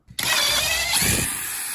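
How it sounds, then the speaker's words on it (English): A power drill whirs up abruptly and runs at a steady high-pitched whine, close by, with a brief lower grinding as the bit bites in, enlarging a screw hole in the dashboard of an MG TD being restored. "I guess I have to drill out the hole a little bit bigger"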